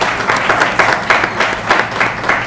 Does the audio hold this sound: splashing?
no